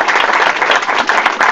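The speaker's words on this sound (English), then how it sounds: "And I'm sure all of us want to applaud him." Audience applause after a talk in an elderhood lecture series, a dense, steady wash of many hands clapping at close range, filling the short moment without interruption.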